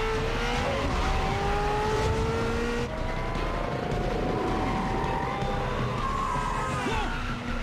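A Cadillac speeds along in a chase with a rising, revving engine whine that climbs, dips and climbs again, plus sweeping tonal swoops and a brief dropout midway, loud and continuous.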